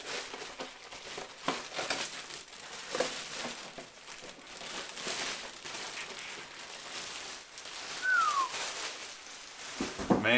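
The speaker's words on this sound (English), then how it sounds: "Let's go ahead and get this plastic removed." Plastic protective film is peeled and crinkled off a Traxxas XRT RC truck body, producing close, continuous crackling and rustling with occasional sharper crinkles.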